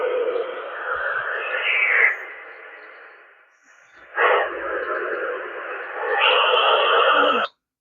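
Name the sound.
digital radio interference on FRS radio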